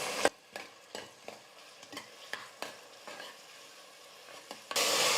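Ginger garlic paste and two tomatoes sautéing in a pan for mutton head curry: a quiet sizzle broken by about ten crisp spatula scrapes in a loose rhythm, then a louder hiss at the end.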